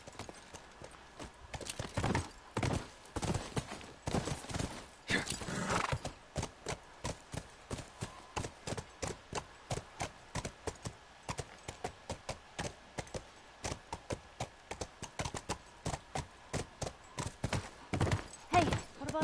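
Horse hooves clip-clop in a steady, rhythmic walking pace through The Last of Us Remastered, continuing for a long stretch with even spacing, mid-distance and moderately loud, with brief game voices early on.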